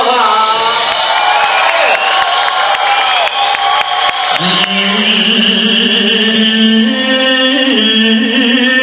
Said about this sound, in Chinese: 也给我们正声所有工作人员再一个热情的尖叫声加掌声